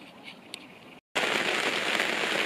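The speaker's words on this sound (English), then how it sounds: "Don't know if you can hear, but it's raining." Rain falls steadily on a parked Citroen Berlingo micro camper at Rhos-on-Sea, Wales: a fairly quiet, even patter of drops on the roof that cuts out briefly, then returns as a louder, denser drumming.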